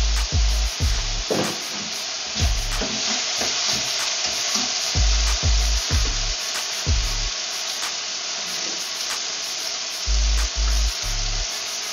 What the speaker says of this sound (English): Mix it up. Stir occasionally.